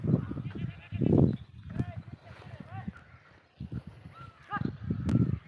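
A flock of sheep being herded out to camp bleats repeatedly from close by, overlapping cries rising over shuffling hooves and low voices in the open air.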